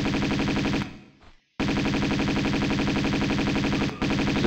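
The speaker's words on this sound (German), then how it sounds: "Du brauchst so viele Schüsse auf einmal." Enemy gunfire in the Tomb Raider 2 video game rattles in a rapid, continuous automatic burst, stops briefly, then resumes just as loud and steady, with no talking over it.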